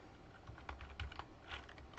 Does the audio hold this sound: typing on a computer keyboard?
yes